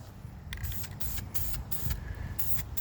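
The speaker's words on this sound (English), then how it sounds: "starting off with some duplicate color caliper black, because I mean it's going on a wheel, so yeah, caliper paint." Duplicolor caliper black paint sprays onto a vintage mag wheel in a series of close, hissing aerosol bursts with short gaps between them, over a low background rumble.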